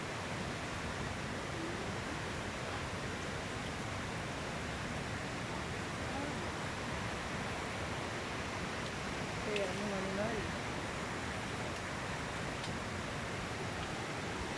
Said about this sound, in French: Elle est là-bas la cascade.